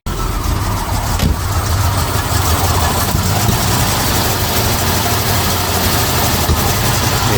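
A Jaguar Series 3 V12 engine running steadily after starting, a loud, continuous low rumble with a smooth idle throughout.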